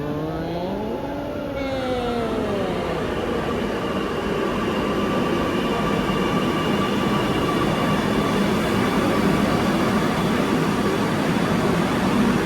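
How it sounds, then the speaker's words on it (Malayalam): A Kochi metro train pulls into a station platform, its steady rumble and rising electric whine building and holding loud and near, with a brief tonal chime at the start. "ആലുവയ്ക്ക് പോകാനുള്ള മെട്രോ വന്നിരിക്കുന്നു."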